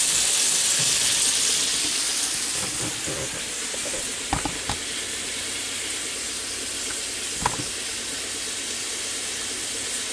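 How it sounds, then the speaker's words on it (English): Large pork chops frying in a pan, giving a steady, broad sizzle that runs throughout, with a few faint clinks and taps over it. "While my pork chops are cooking"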